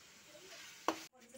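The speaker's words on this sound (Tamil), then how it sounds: "சிக்கன் வந்து வெந்துட்டு இருக்கு." Chicken coated in masala sizzles in a pan with a steady, soft frying hiss, broken near the end by a sharp stirring scrape and a brief pause.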